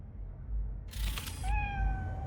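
A cat named Nibbles in the Cyberpunk 2077 video game gives a single clear, fairly close meow with a rising-then-falling tone over a faint background hum, no talking.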